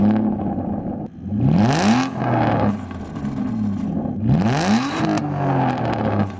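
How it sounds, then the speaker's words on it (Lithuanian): A 2010 Aston Martin Rapide with a 6-litre V12 starts and revs hard twice, each rise sweeping up to a loud howl before falling back to a deep, burbling idle, heard close and alone. "Tai mes galime užkurti šį automobiliuką ir išgirsti, kaip skamba 6 litrai V12 variklis."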